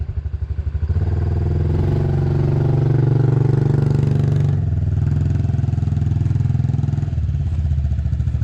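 A small motorcycle engine runs steadily near at hand while a child works the throttle, the tone rising and holding, then dropping slightly before settling back to an even, sustained drone through to the end.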